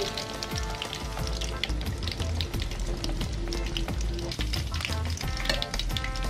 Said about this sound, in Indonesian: daging dagingnya saya tidak menggorengnya terlalu kering ya cukup seperti ini